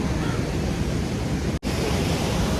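Rushing waves and surf make a dense, steady roar, broken by one very brief dropout partway through.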